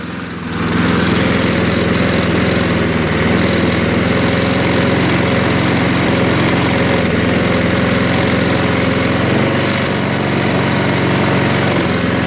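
A Craftsman self-propelled lawn mower with a bagger runs at low idle after a carburetor-cleaner start, a loud, steady, close engine drone with a constant rumble that holds unbroken throughout.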